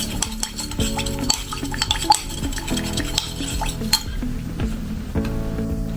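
Salicylic acid toner ingredients are stirred in a container, giving a steady run of close scraping and clinking strokes with light knocks against the sides, continuous and fairly loud with no voices.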